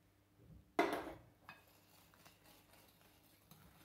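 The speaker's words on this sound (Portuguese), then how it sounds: "Mexendo." A spoon scrapes and knocks against a bowl while stirring chocolate cake batter, one loud clatter followed by a few softer taps, close and quiet in a home kitchen.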